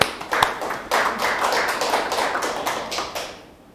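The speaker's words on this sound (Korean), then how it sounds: "하나님께 영광의 박수를." A church congregation at a Wednesday worship service applauds, a loud burst of many hands clapping close by that builds quickly, holds, then fades out.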